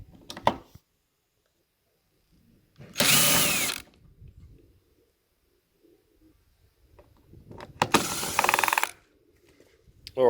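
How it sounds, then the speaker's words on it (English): Phillips head screws come out of an MDF side panel on a flight simulator console, heard as short, sharp ratcheting bursts of screwdriver action separated by quiet gaps. "The side panel's just held on with Phillips head screws. So I'll undo them and I'll give you a look."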